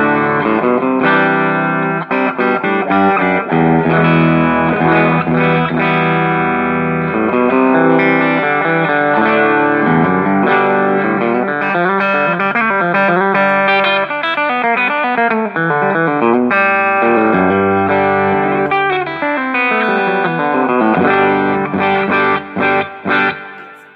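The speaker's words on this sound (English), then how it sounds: "so the big 1 watt setting on normal channel sounds like this" An electric guitar played through a Quilter Superblock UK amp on its 1-watt setting, normal channel, at bedroom volume, with ringing chords and picked notes and a touch of reverb, continuous and without talking.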